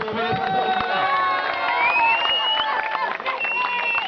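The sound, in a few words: audience applauding at a football presentation ceremony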